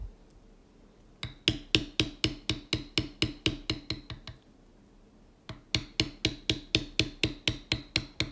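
Steady rhythmic taps of a tooling hammer striking a beveler into leather, two long runs of evenly spaced sharp knocks separated by a short pause, close and clear with no talking.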